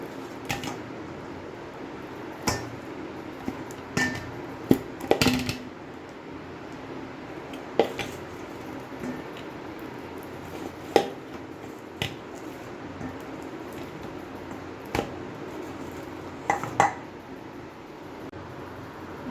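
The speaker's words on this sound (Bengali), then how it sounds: "এবারে কচুগুলোকে ম্যাশার দিয়ে ম্যাশ করে নেব" Boiled, peeled taro being mashed with a masher in a home kitchen, giving soft squishy presses and sharp taps at irregular intervals over a steady fan-like background hum, close and moderately quiet, with no talking.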